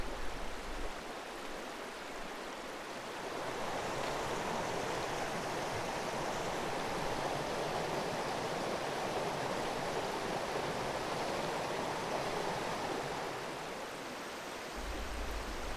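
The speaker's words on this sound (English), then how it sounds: "My search upstream soon paid off with a series of beautiful waterfalls, which stair-stepped their way up the mountain" A North Georgia mountain stream spills over a series of stair-stepped waterfalls, giving a steady, close rushing roar that swells after the first few seconds and holds evenly, with no voices.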